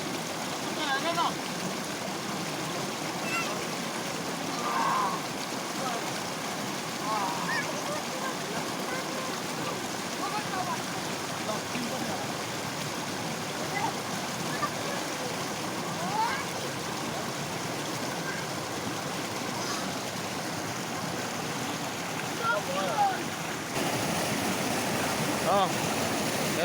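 Cold Himalayan stream water flowing steadily, a broad continuous rush with a faint wind-like edge heard throughout, while people talk now and then.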